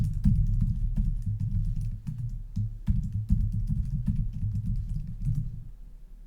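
Keyboard keys clicking in quick irregular bursts as a password is typed on a computer, with brief pauses and no voices, close and steady.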